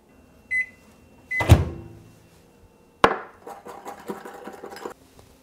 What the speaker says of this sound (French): moi je vais mettre ça un 20-25 secondes au micro-ondes